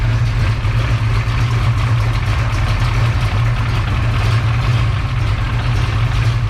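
A 1967 Mustang engine idles steadily with a deep, even low rumble, close and loud, no voices over it.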